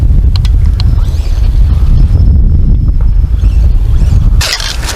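Loud, close whine and rumble of an HBX 16889 1/16 4WD brushless RC truck pushing through thick grass, with a steady buzzing drive and a sudden rustling burst near the end.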